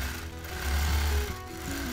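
A sewing machine stitches a casual free motion quilting design, with a fast steady mechanical hum and rapid needle chatter, close and continuous over a couple of seconds without speech.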